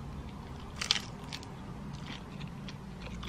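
A single crisp crunchy bite into fried food with a short crackle, close up, followed by quiet chewing over a low steady background hum.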